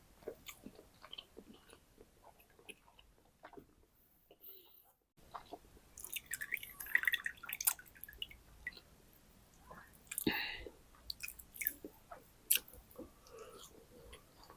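Close, wet chewing and biting of a syrupy Haldiram rasgulla sweet, soft squishy bites and mouth sounds coming in irregular bursts after a brief quiet pause.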